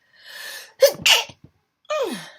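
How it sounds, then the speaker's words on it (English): A close, loud sneeze with a sharp intake of breath, then a trailing exhale-like vocal sound after a pause. "I'm about to sneeze."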